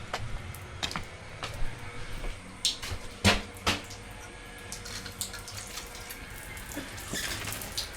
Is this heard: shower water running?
yes